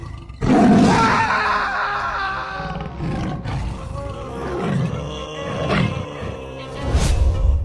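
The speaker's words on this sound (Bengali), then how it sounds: "এটা কোনো গরু নয়, এটা সাদা বাঘ।" A white tiger in a cartoon set in the Sundarbans lets out loud, close roars and growls in several rising and falling bursts, with voices heard faintly in between.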